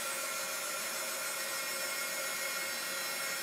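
A dryer blows hot air steadily over chalk paste on a craft project, a loud continuous whooshing whine held at close range with no other sounds.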